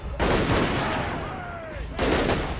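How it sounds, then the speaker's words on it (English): Artillery fires during a Total War: Warhammer battle with Empire forces. Two dense, loud bursts of booming fire roar across the battlefield, with a brief whistling tone in the quieter gap between them. "the Empire's fielding a lot of artillery in this battle"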